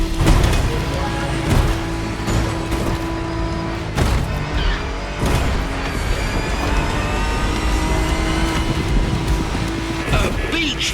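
A Japanese off-road truck rattles downhill in The Crew Motorfest, its engine droning loudly under music while repeated heavy thumps and jolts from the suspension break through the whole run.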